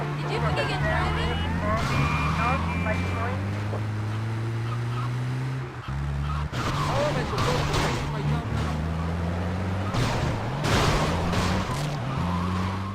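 In GTA Vice City, an ambulance siren wails steadily with engine roar and tire skids as the vehicle is driven hard and rammed, loud and continuous, with a voice talking over it.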